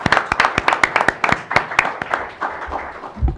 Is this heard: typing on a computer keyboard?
no